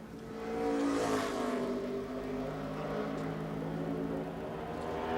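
A NASCAR race car flashes past during a qualifying lap, loud engine roar peaking early and then holding a steady high drone as it runs on down the track.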